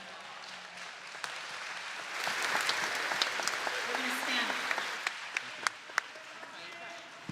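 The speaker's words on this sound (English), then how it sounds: "You got applause, Tim" An audience at a Kol Nidre service claps in a swelling round of applause that peaks mid-way and thins to scattered individual claps near the end, with faint voices underneath.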